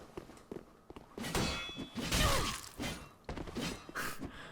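Tailbone Spear weapon art in Dark Souls 3, a sequence of swooshing thrusts and heavy shattering impacts with thuds and clanging hits, loud and close, with no talk over it.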